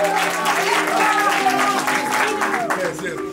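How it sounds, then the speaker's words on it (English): Audience applause at an award ceremony on a red carpet event, a dense sustained wave of clapping from a crowd with cheering voices mixed in, loud and close throughout. "give me a round of applause"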